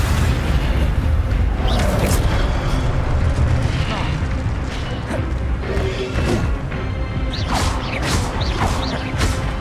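Fire spells cast in Hogwarts Legacy, a video game, crackle and burst in repeated whooshing blasts over dense, steady game noise, while a voice keeps calling out spell names.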